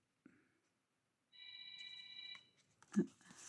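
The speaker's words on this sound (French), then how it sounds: "il y a le téléphone qui sonne" A telephone rings in a home, sounding as a steady electronic ringtone with layered tones that holds for about a second, heard at modest volume. Brief rustles come before it, and a louder knock or handling noise follows.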